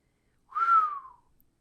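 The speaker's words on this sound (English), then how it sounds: "he gave a soft, long whistle" A man gives a soft, long whistle, one smooth sliding note that rises slightly and then falls away, heard alone and close.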